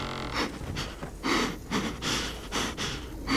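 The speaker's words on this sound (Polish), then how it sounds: "Słychać oddech." Heavy, rhythmic breathing in The Walking Dead Season 4 video game, a series of close, loud panting breaths and gasps with no talk.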